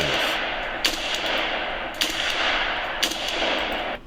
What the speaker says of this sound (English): listen to those gunshots